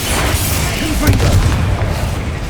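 A Confringo spell explosion from Hogwarts Legacy lands as a loud, deep boom amid steady combat noise, while a voice shouts over it.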